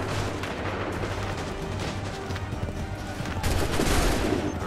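Soldiers' musket volley in Assassin's Creed III, a dense, continuous roar of overlapping gunfire and booms filling the scene, growing slightly louder toward the end.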